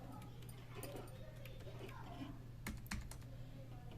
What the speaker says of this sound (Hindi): पहले हम इसके होम रो को टाइप कर लें।